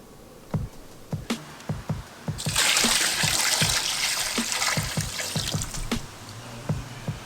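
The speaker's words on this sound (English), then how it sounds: "Got the water in the water pan, y'all." Water pours into the water pan of a smoker readied for oxtails, a few seconds of splashing that is loud and close, amid regular sharp knocks and clicks.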